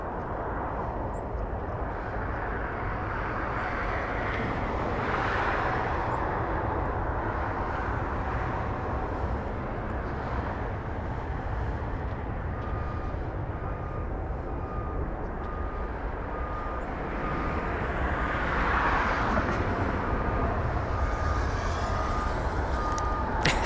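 An airliner departing Los Angeles International Airport under north winds, its engine roar a steady, moderately loud broadband rumble held throughout and swelling slightly near the end, with an intermittent tonal beep in the background.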